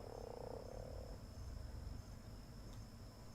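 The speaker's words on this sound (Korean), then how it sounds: "개구리 소리는 되게 많이 들리는데 개구리가 왜 안 보이지 근데?" Frogs croak continuously in a swampy area of the video game Ark: Survival Evolved, a dense, pulsing chorus with insect-like buzzing and a steady high tone over it, fairly faint.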